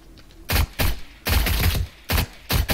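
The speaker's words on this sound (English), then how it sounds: "I like SMG because it makes less noise." SMG fire in the video game 7 Days to Die during a horde night on super hard mode: five sharp, loud bursts of rapid shots separated by short pauses.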